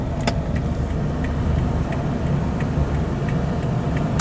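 A 2013 Isuzu All New D-Max four-door automatic pickup with a 3.0 diesel engine drives smoothly. Steady, loud engine and road rumble runs throughout, with faint regular ticking above it.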